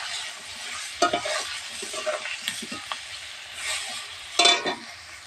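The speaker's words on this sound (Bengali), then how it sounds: "আমি এবার এই কড়াই ক্যাপসিকাম আর কাঁচকলাটা ভেজে নেব।" Capsicum and green banana frying in a wok, salted and spiced with turmeric: a steady sizzle interrupted by several louder scraping bursts as the pieces are stirred and turned.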